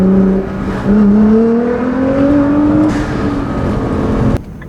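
2015 Nissan GT-R fitted with a Meisterschaft exhaust, tune and GFB blow-off valves, pulling hard at full throttle with rising engine notes broken by quick upshifts, loud and close, then a sudden cut near the end.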